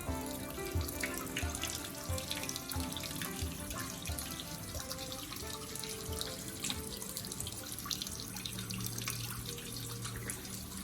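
A water spout pours steadily into a 2x2 bullfrog breeding pond, a constant splashing trickle that runs unbroken throughout, close and moderately loud, with no voices.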